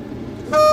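Class 37 diesel locomotive horn in Train Simulator 2020, a short low tone sounding over the rumbling engine of a long train.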